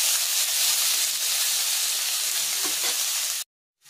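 Chopped onions with salt fry steadily in hot oil for a prawn curry, a dense continuous sizzle close by that cuts off abruptly near the end.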